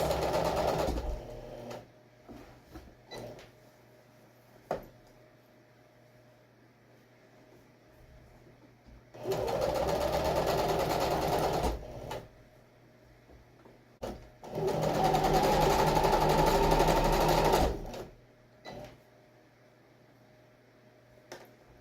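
A sewing machine stitches a zipper into the gusset of a box cushion for a sectional sofa, running in two sustained bursts of several seconds each, separated by quieter pauses and handling noises.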